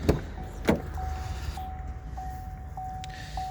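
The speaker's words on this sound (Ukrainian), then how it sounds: "Тут 4 склопідіймачі" A 2020 Opel Insignia B's electric window motor whirs in a steady hum, preceded by a couple of sharp clicks or thumps, with a faint repeated tick along the way.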